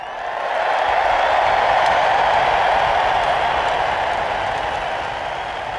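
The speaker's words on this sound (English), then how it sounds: "Mine is the roar of the crowd." A large arena crowd roars and applauds at a hockey game, a dense sustained wash of cheering and clapping that swells in and holds steady throughout.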